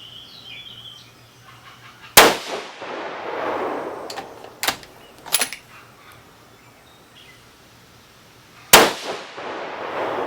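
6.5 Creedmoor rifle firing Barnes 140gr Match Burner bullets loaded with Staball 6.5 powder: two loud, sharp close-range reports several seconds apart, with a few fainter cracks between them over quiet outdoor background.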